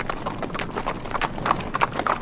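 A horse walks in a Western film scene, its hooves clip-clopping in a steady, close rhythm that stays loud and even for a couple of seconds.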